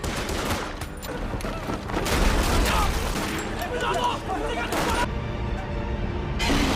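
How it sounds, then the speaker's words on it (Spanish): Dense, sustained gunfire from the film Godzilla Minus One, where panicked mechanics shoot wildly; rapid overlapping shots fill the whole stretch under a speaking voice. "El pánico se apodera de los mecánicos, quienes comienzan a disparar como locos"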